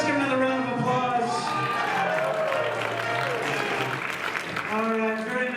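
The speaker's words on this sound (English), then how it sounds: "Let's give another round of applause." Audience at a Mardi Gras stage show applauding with steady, moderately distant clapping, mixed with voices and tonal sounds throughout.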